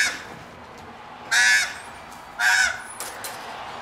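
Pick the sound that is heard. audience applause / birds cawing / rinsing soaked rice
birds cawing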